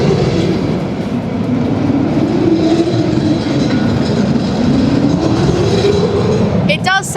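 The old Intamin roller coaster Colossus at Thorpe Park rumbles and rattles loudly along its track, a continuous close clattering roar with a sharp squeal near the end.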